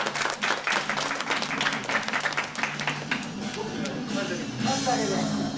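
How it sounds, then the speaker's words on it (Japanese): An audience applauds at a martial arts event, a dense burst of hand claps that gradually thins out, with voices talking over and after it nearby. "拍手をお願いいたします。"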